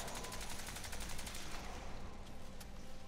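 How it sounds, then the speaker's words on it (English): Rapid automatic gunfire in the Crysis 2 campaign rattles in a dense, steady burst for a few seconds, fairly faint and distant-sounding, with a couple of sharper single cracks toward the end. "I've been shot from every bloody angle here."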